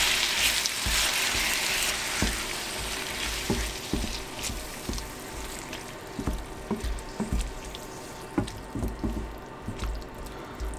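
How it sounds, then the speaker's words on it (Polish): Canned tomatoes go into a pan of frying peppers for shakshuka, and a steady close sizzle follows with wet bubbling, dripping and scattered soft clicks and taps, no talking. "dodajemy puszkę pomidorów."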